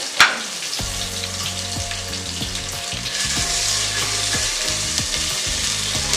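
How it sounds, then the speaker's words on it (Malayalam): Slit green chilies sizzle and crackle in hot coconut oil, a sharp splash at the start, then steady frying with occasional scraping of a utensil. "നമ്മുടെ വെളിച്ചെണ്ണ നന്നായി ചൂടായിട്ടുണ്ട്. ഇതിലേക്ക് ഞാൻ കീറിയിട്ട പച്ചമുളക് ഇട്ട് കൊടുത്തു."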